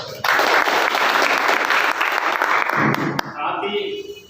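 A large gathering at a Gondwana Students Union foundation-day event bursts into loud, dense applause that holds strongly, then tapers off near the end as a voice begins speaking.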